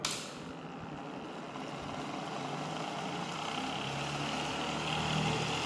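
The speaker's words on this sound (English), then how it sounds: "now I am going to start the motor" A three-stage BLDC motor with its windings connected in parallel starts and runs, a steady broadband whir that stays even and fairly faint, rising slightly toward the end, with no voices.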